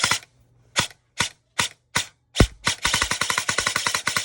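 Airsoft SSG1 rifle fitted with a Polarstar system firing sharp, loud shots: several single shots spaced apart, then a rapid string of fast bursts.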